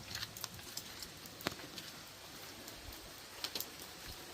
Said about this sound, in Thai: ฝนยังตกเลย